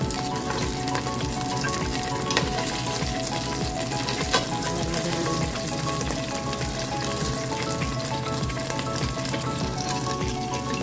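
Chicken wings frying in hot oil give off a dense, continuous crackling sizzle with fine spattering pops, loud and close throughout.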